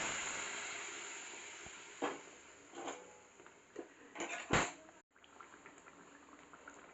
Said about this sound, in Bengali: তরকারি ফুটতে থাকছে।